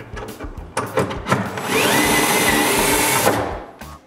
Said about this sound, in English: so I drill a bunch of holes for some adjustable shelves